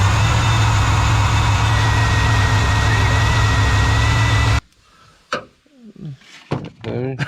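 A 1992 Ford F150 engine roars loudly and steadily under a pressed gas pedal, then cuts off abruptly, leaving quiet clanks and voices.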